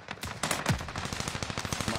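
Rapid automatic gunfire in a video game, a dense string of sharp repeated shots fired in quick bursts, loud and close for about two seconds.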